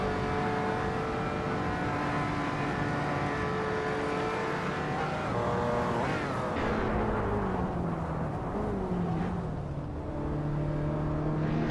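A Ferrari F50 supercar races, its engine holding a steady loud tone with harmonics that shift in pitch as it works through the revs, then a drop and a climb again around the midpoint, staying close and continuous.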